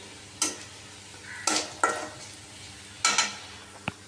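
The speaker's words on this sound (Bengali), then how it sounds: "প্রথমে দিয়েছি পেঁয়াজ, এরপরে দিয়েছি রসুন, এরপরে দিয়েছি সাত ফোড়ন দিয়ে প্রথমে ভালো করে নেড়ে নেবেন" A soft sizzle of onion, garlic and whole spices frying for a taro-leaf dish, with a few sharp scraping stirs and a light clink against the pan.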